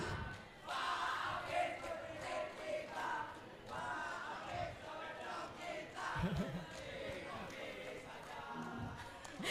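An audience at a public town-hall style event claps and cheers in bursts, rising and falling crowd noise with shouts mixed in, moderately distant, with voices talking between.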